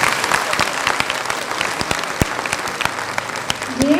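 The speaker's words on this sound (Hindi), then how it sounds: "तालियां बजा के बता दो एक बार।" Students and staff clapping after a school comedy play in a hall, a busy, continuous burst of applause with scattered sharper claps and a brief whistle near the end.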